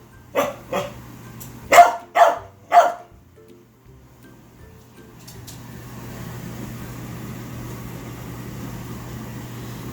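A few sharp dog barks in quick succession near the start, then quiet followed by a steady low background hum.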